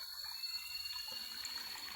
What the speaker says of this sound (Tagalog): sigurado ako may butas yan. Sumisingaw siya.